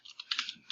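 A few quick keystrokes tapped on a computer keyboard while entering a router configuration command, light clicky taps in a short irregular burst, close and clear with no voices.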